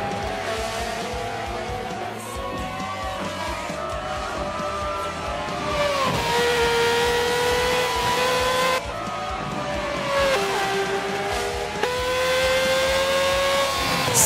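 Formula 1 cars race at Mugello in the Forza video game, their engines whining continuously with rising and falling pitch as they shift through gears, alongside occasional tire squeal.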